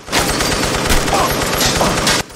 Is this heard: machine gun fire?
yes